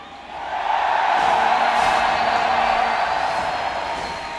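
A large arena crowd at a League of Legends esports match in Anaheim roars and cheers in a sustained, loud wash of voices that swells and holds for several seconds.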